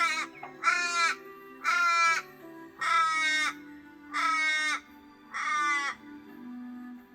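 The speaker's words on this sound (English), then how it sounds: "Not much bird life, but a crow's just started up at the window of my camper." A crow caws right outside a camper window in the early morning in mallee scrub, five loud drawn-out harsh calls evenly spaced, with a low steady hum underneath.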